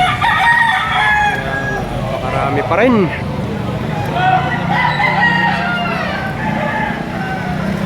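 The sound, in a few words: roosters crowing at a market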